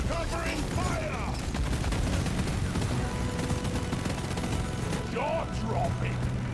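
Continuous video game gunfire, a dense, loud rattle of rapid shots that holds steady throughout, with shouted voices heard over it near the start and end.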